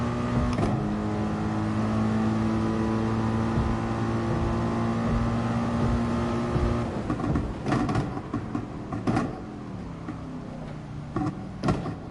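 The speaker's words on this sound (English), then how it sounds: "When you go out there in real life and you hear AMG GT3, you just get awestruck from the noise it makes." Mercedes-AMG GT3 race car engine in the Gran Turismo Sport racing game, a steady droning tone that breaks into revving and gear changes, heard alone without talk.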